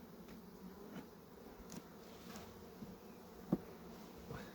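Carniolan honeybees buzzing at an open hive, a soft steady drone with a few brief louder passes of bees close by.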